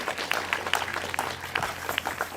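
An award-ceremony audience applauds with scattered, moderately loud clapping that continues steadily throughout.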